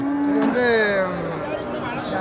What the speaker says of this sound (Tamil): சிந்து மாடு சிந்து மாடு